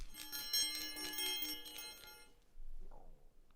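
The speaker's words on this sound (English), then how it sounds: "I've got my little bell." A small hand bell is shaken in bright, repeated jingling bursts for about two seconds, then stops. A short faint sound follows near the end.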